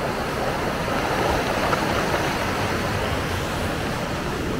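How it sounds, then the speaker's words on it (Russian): Rough sea surf at La Caleta on Tenerife, a loud, steady roar of churning water with no breaks, close by and filling the whole stretch, with a single brief spoken word over it. "Вот смотри, как здесь бурливо. Да, сегодня море бурливое."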